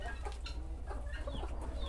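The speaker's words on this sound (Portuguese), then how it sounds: "As galinhas já tá metade empoleirada, olha." Chickens clucking softly and steadily as they settle onto the roost at dusk on a farm, a close, continuous murmur of overlapping clucks with no talking.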